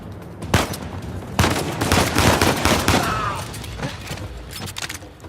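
Video game gunfire in Uncharted 4: a sustained, loud firefight of rapid overlapping shots and bursts, continuous throughout with a dense, echoing crackle.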